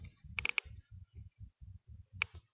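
Keystrokes on a computer keyboard while a command is typed into a Juniper SRX firewall's configuration mode: two quick bursts of sharp clicks, a short cluster early and a single click later, over a steady low hum of talk.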